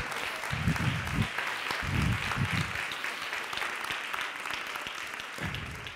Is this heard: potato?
no